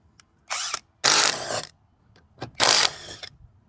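A Bosch cordless impact wrench fires in three short bursts of rapid hammering, loud and close, separated by brief pauses.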